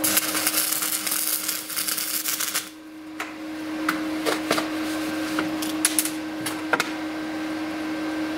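Electric arc welding on a truck trailer gives a loud, harsh crackling buzz at close range, cutting off partway through, then faint clicks and a steady electrical hum with scattered sharp ticks.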